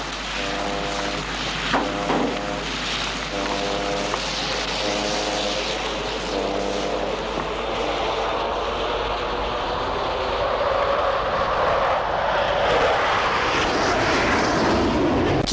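F-15 fighter jets roar overhead in an action movie battle scene, a loud, sustained rushing engine noise that swells toward the end over a dense soundtrack.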